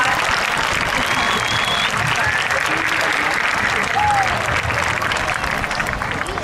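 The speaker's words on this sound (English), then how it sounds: "Let's honor her with a round of applause." Sustained applause from a large audience at a graduation ceremony, a dense wash of clapping that holds steady throughout without a break.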